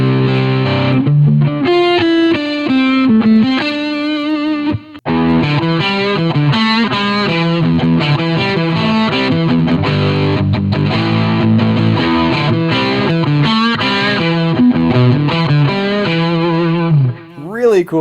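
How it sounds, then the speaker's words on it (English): Heavily distorted electric guitar through a Two Notes Torpedo Captor X with the twin tracker on, giving a doubled, chorus-like wall of sound: a continuous loud riff of sustained chords and note runs with a brief break partway through. "it basically sounds like two guitars at once"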